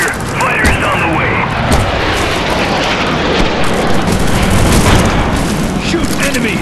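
Booming tank cannon fire and explosions in a WW2 tank racing shooter on Android, a dense, continuous barrage of loud blasts with rumbling engine noise layered throughout.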